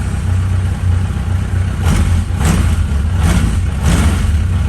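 A vintage Italian motorcycle engine idles steadily nearby at about 1500 rpm, a low throbbing rumble with a few brief rises in revs.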